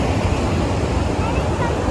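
Fast, strong river current and waves at a riverside spot, a loud, steady rush of water that fills the whole clip with no break.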